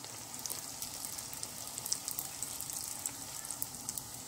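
Beignet dough frying in hot oil in a pan gives a steady, bright sizzle with constant crackling pops and bubbling, close and continuous throughout, with no talking over it.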